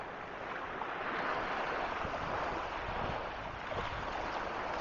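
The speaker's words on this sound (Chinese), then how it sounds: "这个海浪啊，一阵阵的涌过来啊，拍在那些礁石上" Ocean surf washing onto rocks at Spanish Banks beach in Vancouver, a steady broad roar of waves and wind noise with no talk, rising and falling gently throughout.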